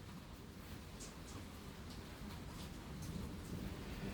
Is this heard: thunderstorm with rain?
yes